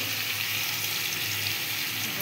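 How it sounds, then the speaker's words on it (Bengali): Vegetables with turmeric and salt fry in a pan, a dense even sizzle holding steady and close from start to finish with no talk. "এটাকে একটু লাল লাল করে ভাজবো"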